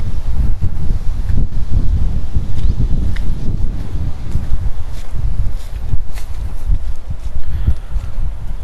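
Strong, cold wind gusting across open, empty farm fields, a constant loud rushing roar with buffeting microphone noise and rustling throughout, no voices.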